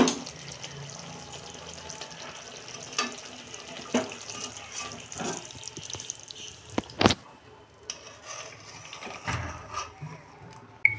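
Liquid poured into a fish curry of potato and eggplant as it cooks, a steady trickling wash with a few clinks of utensils, fairly close and moderate, no talking.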